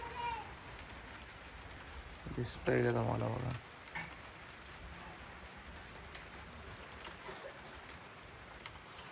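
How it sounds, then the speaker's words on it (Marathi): Light rain falls early in the morning, a soft, steady patter that runs throughout, with someone speaking briefly over it near the start. "पाऊस येतोय हलका हलका"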